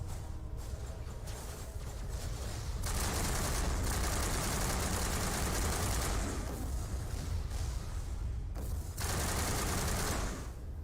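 Sustained turret gunfire in the Mass Effect video game, aimed at a hovering dropship: dense, continuous bursts of rapid shots with low booming undertones, loud and close, broken by a few brief gaps.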